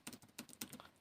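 Quick bursts of keystrokes on a computer keyboard while typing a software name into a Windows search box, several close, crisp taps in an irregular rhythm with no talking.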